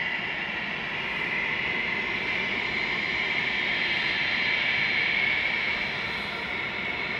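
A Ryanair jet taxis at Manchester Airport, its engines producing a steady, fairly distant whining roar with a broad hiss, continuous and unbroken throughout.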